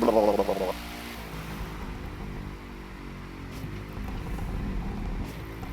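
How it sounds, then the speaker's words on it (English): Koenigsegg Jesko hypercar exhaust in the racing game The Crew 2, a low droning burble that eases down as the revs fall, fairly quiet and steady after a brief louder burst at the start. "we can enjoy like the exhaust sound as we like let the revs go down"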